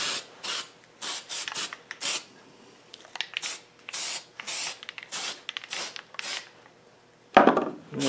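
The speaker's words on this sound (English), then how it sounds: "one lesson I learnt with cold galvanising spray, which is why I've turned it upside down, is to clean the jet out" Cold galvanising zinc spray from an aerosol can coats rear brake parts in short hissing bursts of about half a second each, repeated roughly a dozen times close by, ending with a sharper knock.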